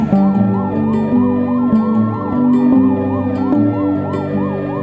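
A loud wailing ambulance siren rises and falls in a steady repeating cycle within a song, mixed with sustained musical tones and regular beats, with no voices.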